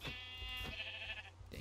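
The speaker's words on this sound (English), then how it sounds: "I'm going to kill the sheep with this bow." A sheep in the video game Minecraft lets out a bleat, a single drawn-out wavering call, fairly quiet over a low game background.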